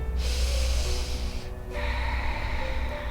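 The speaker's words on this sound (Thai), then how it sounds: "หายใจออกหายใจเข้าท้องพอง" Deep breathing during a seated stretching exercise: a long audible inhale, a short pause, then a slow exhale, close and fairly loud.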